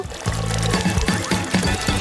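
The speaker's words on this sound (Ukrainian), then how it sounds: "Залишили зробити невеликий отвір в лимоні і видавати весь сік у склянку." Lemon juice squeezed from a lemon into a glass, a close, fairly loud stream of pouring liquid with uneven gurgles and splashes.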